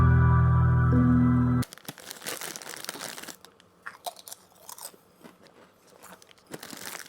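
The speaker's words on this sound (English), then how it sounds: "I love Doritos." Crunching and chewing of Doritos tortilla chips, close and crisp, with irregular bites and crackles after a loud opening burst of other sound.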